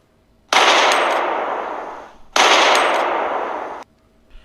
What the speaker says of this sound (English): He pulls out a pistol and begins to shoot her.